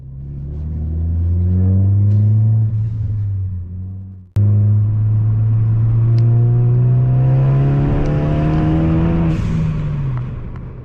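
A modded Ford Focus ST accelerates hard through the gears, the engine note climbing loud and close, dropping briefly at a shift, then pulling up again in a second strong rev.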